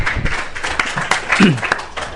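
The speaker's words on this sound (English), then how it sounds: "Let's give a round of applause to Vice President Fong" A university internationalization meeting audience claps for the vice president, patchy applause mixed with a low murmur of voices and room noise, moderately loud and short.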